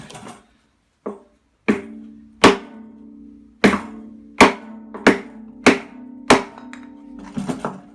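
Heavy hammer blows ring out on the metal drum of a Hotpoint washing machine during bearing replacement, about a dozen strikes in an uneven rhythm, each with a resonant clang that lingers briefly.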